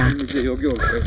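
Crows caw near a remote old mountain house while someone speaks over them, their harsh calls mixing with his voice.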